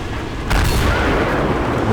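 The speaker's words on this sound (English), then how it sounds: "One shot into the Waffenträger before it backs behind the building" A tank destroyer's cannon booms in an armored-combat video game, firing at a Waffenträger: one deep, heavy blast that rolls into a long, loud, noisy rumble layered over constant battle ambience.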